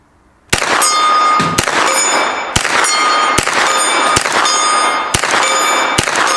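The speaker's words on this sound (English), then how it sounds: "The CZ Scorpion Evo 3. Let's fire a couple of rounds." A CZ Scorpion Evo 3 fires seven evenly spaced shots, each sharp crack followed by the long ringing clang of a struck steel gong that keeps ringing between shots.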